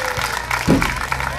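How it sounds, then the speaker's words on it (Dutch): Brief applause for the mayor at an outdoor family game event at the Vliedberg, clapping mixed with crowd voices and an announcer's talk over a busy, noisy background. "Applaus voor de burgemeester"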